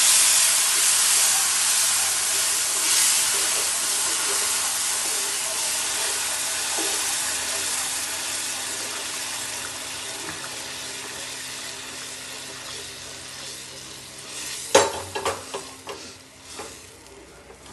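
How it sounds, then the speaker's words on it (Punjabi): Loud, steady sizzling hiss as water is slowly poured into hot sugar syrup for halwa on a gas stove, slowly dying down, with a few clattering knocks near the end. "ਹੌਲੀ ਹੌਲੀ ਆਪਾਂ ਪਾਣੀ ਪਾਵਾਂਗੇ ਇਹਦੇ ਵਿੱਚ"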